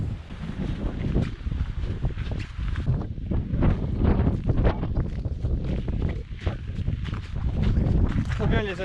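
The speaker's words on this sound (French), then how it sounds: "j'ai le vent dans le dos, ça m'aide" Strong wind rushes across a microphone on a Vosges mountain trail during a trail run, a loud continuous buffeting roar with gusts throughout, heard alone with no talking.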